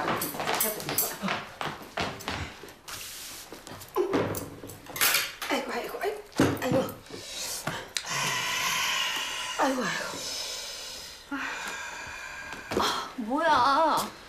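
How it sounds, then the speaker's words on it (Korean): Ramen eaten straight from the pot with chopsticks: scattered clinks and scrapes of utensils against metal, with voices talking over the eating noises. "앞접시도 없이 냄비째 먹어?"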